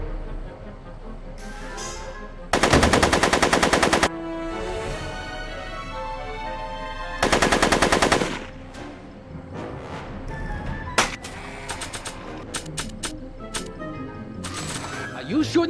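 Two loud bursts of rapid automatic gunfire, each lasting one to two seconds, ring out in a Back to the Future video game, with character dialogue and other game sounds around them.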